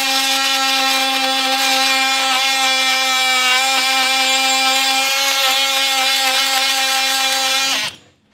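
An oscillating power saw whines at a steady high pitch while cutting a notch in a wooden barn column, loud and continuous for several seconds before abruptly stopping.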